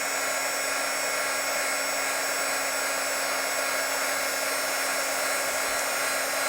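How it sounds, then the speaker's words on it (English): A heat gun blows hot air steadily onto powder-coated metal, a loud, continuous broadband whoosh with a steady motor hum underneath, no voices. "And heat guns are very hot,"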